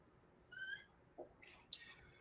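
A cat gives a couple of faint, high meows close to the recorder in a quiet space, followed by a few short soft chirps.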